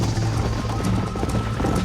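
Rapid, rhythmic hoofbeats of a galloping horse in the video game Red Dead Redemption pound close by, continuous and loud over a busy background.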